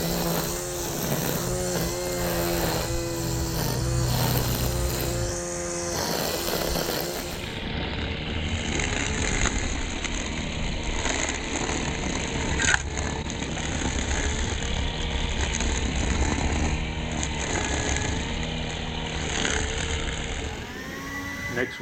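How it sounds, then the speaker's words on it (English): A DeWalt 60-volt battery string trimmer runs continuously outdoors, giving a steady buzzing whine that shifts pitch slightly as the line spins, loud and close throughout with a few small clicks. "This is a little footage now of the 60-volt DeWalt string trimmer."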